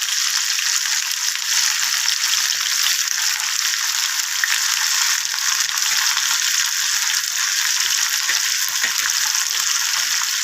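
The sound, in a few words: onions frying in oil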